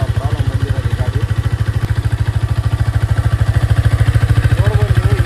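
A Hero Xtreme 250R motorcycle idles close by, its steady, rapid engine pulse running throughout, with faint voices in the background.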